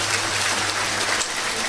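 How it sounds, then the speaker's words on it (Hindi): An audience at a Bageshwar Dham religious discourse gathering claps in thanks, producing a dense, steady wash of many hands that stays even throughout without pause. "ताली बजाकर धन्यवाद दो माता को।"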